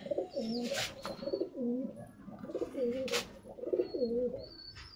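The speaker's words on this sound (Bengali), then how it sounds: "এই হচ্ছে আরেকটা গোলা লাইনের পায়রা।" Cooing of a pigeon kept for sale, a repeated throaty warble that comes in several rounded phrases, close by and steady, with faint chirps behind it.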